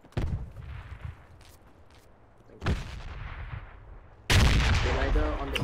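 In a tactical shooter game with a spec ops squad on a rooftop, gunfire cracks in short bursts, then a grenade explosion lands close and loud, its heavy blast roaring on to the end.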